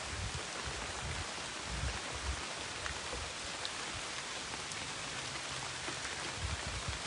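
Steady rain falls hard and close at a resort in Mabitac, Laguna, a dense even wash of droplets with occasional heavier patters and no speech.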